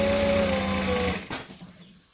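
A sewing machine runs steadily, stitching along the top edge of a bag for a Trailblazer pattern, with a constant whirring drone for about a second before slowing and stopping, followed by faint handling.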